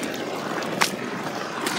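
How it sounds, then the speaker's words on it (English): Water rushing and gurgling steadily down an overflow pipe, a continuous hollow pour with a brief splashy surge partway through. "That's the sound of water going in the freaking overflow pipe."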